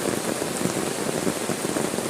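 Heavy monsoon rain pours steadily over an areca nut plantation in the Malnad hills, a dense, loud, continuous hiss of drops on leaves and ground with no voices.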